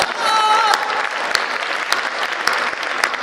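A crowd applauds at a Hindi comedy poetry show, sustained dense clapping with a few sharper individual claps standing out, while a brief whistle-like tone rings over the start.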